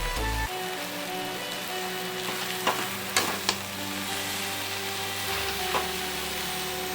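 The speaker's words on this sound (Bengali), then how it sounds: "এটাকে ফ্রাই করে নিই" Boiled Maggi noodles frying in a pan, a bright steady sizzle with a low hum underneath and a few sharp clinks and scrapes of stirring.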